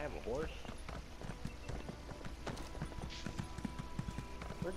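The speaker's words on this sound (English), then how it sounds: "Oh, well, I have a horse." Horse hooves clip-clop steadily in The Elder Scrolls Online, a quiet, even trot of sharp repeated hoofbeats with game ambience underneath and players talking over it.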